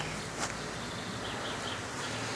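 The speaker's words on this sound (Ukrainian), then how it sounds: "Подивіться, скільки бджоли працює на сумахі." Honey bees working sumac flowers buzz in a steady, busy drone, many insects at once, with a faint rustle and no voices.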